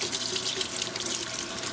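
Hot water runs steadily from a kitchen tap into a sink, a continuous close splashing hiss with no talk.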